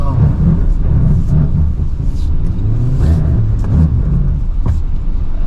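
A Suzuki Grand Vitara in all-wheel-drive lock mode churns through off-road mud, its engine rumbling low and loud, close and continuous, with the vehicle's mechanical noise and muffled knocks throughout.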